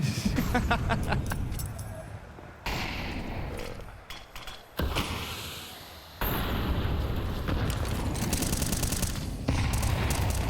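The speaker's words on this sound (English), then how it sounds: "he was actually just shooting both sides" Rapid gunfire from the video game Counter-Strike 2 during a professional FaZe vs G2 match, loud bursts that start and stop abruptly in several sections, with a busy mix of other game effects.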